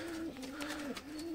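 A pigeon in a breeding cage gives a brief, soft, rolling coo, close and alone against a quiet background.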